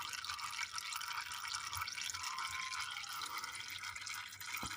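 Fluid dripping and trickling from a 1.4 16v 75hp VW Golf 4 during servicing, a steady faint splattering trickle with a few distinct drips, close by with no voices.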